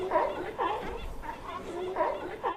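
Seals calling to each other at a dive hole, giving repeated short barks and rising chirps in a steady back-and-forth rhythm at moderate loudness, with a faint hiss of background noise.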